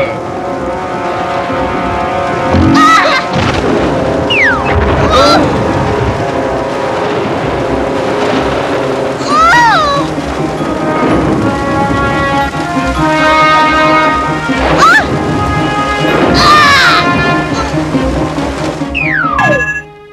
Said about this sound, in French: L'orage s'éloigne.